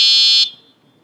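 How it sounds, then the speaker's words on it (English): A loud, piercing electronic buzzer on an Eskute Wayfarer city e-bike sounds as one steady high tone, close up, then cuts off sharply, leaving near silence. "And then we do have a buzzer here."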